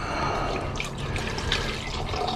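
Water poured into a container holding a chemical solution used to dissolve crystals during gold recovery from IC chips, a steady close splashing and trickling stream with no talk.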